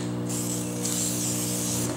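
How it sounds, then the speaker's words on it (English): Wet magnetic particles spray onto a weld sample during magnetic particle testing with a yoke, a steady close hiss that runs continuously with no talk. "Next step is to apply the magnetic field with the yoke and then spray the magnetic particles."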